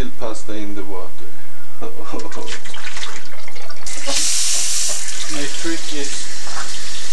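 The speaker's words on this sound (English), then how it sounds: "to take the pan and fill it with water again." Tap water runs into a cooking pan at a kitchen sink, a steady rushing stream that grows louder midway, while a person talks over it.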